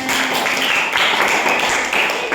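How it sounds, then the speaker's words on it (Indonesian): A group claps together at an Indonesian teacher coaching session, a steady, dense patter of hands that fills the whole moment with no voices over it. "tepuk tangan semuanya"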